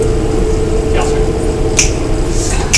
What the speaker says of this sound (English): I love to snap my fingers